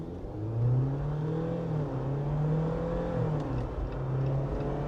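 A 2024 Jeep Wrangler Willys 4xe with a 2-litre turbocharged engine accelerates hard from a brake-boosted launch. The low engine drone climbs through gear changes, close and steady, with no talking.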